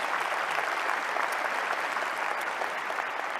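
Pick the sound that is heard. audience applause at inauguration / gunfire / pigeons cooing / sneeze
audience applause at inauguration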